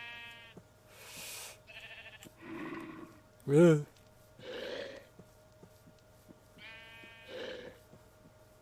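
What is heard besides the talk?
sheep bleating in Minecraft video game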